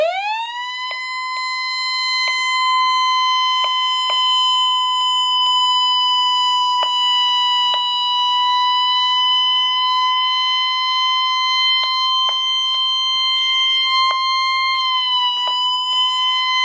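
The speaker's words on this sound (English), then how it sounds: "it would be better if I put it on fucking LED and alarm!" A Midland 74-105XL weather radio sounds its alarm, a loud, steady, piercing electronic tone that rises at the start and then holds continuously for about seventeen seconds, with small clicks over it.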